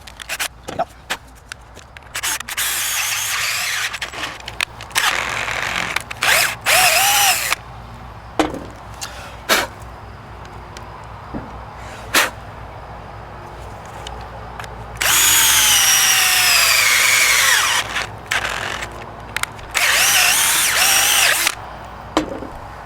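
A power drill drives the screw of a Magpul MSA-QD aluminum sling attachment, whirring loud and close in several sustained bursts with rising and falling pitch, separated by clicks, handling knocks and quiet pauses.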